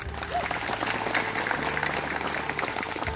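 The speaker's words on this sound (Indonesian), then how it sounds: "tepuk tangan dong." An audience at a village gathering of Dayak people in Desa Tokung, Tanah Siang, claps in a steady, dense round of applause that runs throughout, with a low hum and faint talk underneath.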